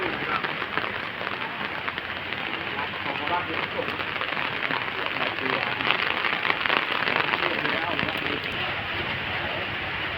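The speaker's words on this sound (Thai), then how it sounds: "ฝนตกแห้งค่ะ" Steady rain pours down outdoors during a storm, a dense continuous hiss of drops on surfaces that holds evenly loud throughout with no pauses.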